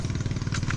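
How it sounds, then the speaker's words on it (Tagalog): A repaired engine driving an irrigation water pump on a farm field, chugging in a fast, steady rhythmic putter up close and loud, with no talk over it. "Ayan, naayos na ni Kuya Nardo yung makina."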